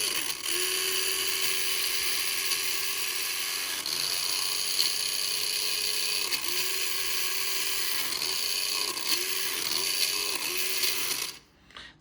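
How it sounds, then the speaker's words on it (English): A small electric motor whirs steadily, driving the geared transmission of a car drivetrain model with a faint rhythmic ratcheting clatter, close and continuous before cutting off abruptly near the end. "when I push it, it's moving the toggle switch, which activates the motor, which goes to the transmission"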